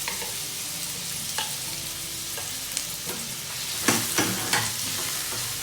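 Finely minced garlic and ginger hit hot leftover egg-frying oil, giving a constant loud hiss with a few spatula clicks and stirring scrapes, close up and free of speech.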